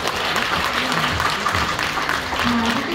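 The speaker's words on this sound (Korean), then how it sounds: "오늘 제안해주신 과장님과 토론자 여러분께 다시 한번 박수 부탁드립니다" Audience at a formal Korean meeting or forum applauds the presenter and panelists, a dense, steady wash of clapping filling the room with faint voices mixed in.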